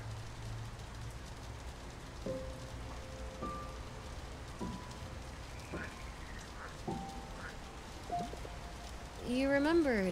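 Steady soft rain in the Until Then video game, a faint continuous patter under sparse tonal game sounds and beeps, rising slightly near the end.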